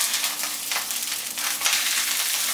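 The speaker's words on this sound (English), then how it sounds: "Okay, I'm going to flip my fish now." Breaded catfish fillet fries in a pan of oil, a dense, steady sizzle with crackling bursts, close and loud, with no voices.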